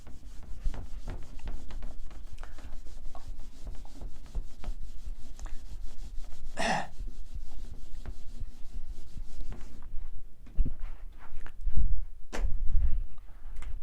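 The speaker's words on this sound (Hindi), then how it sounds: "मैं फिर इसको रब करने जा रहा हूँ।" Rubbing on a classroom board to erase chalk writing during an organic chemistry lesson, a steady dry scrubbing that keeps up for about ten seconds before tapering into scattered softer rubs.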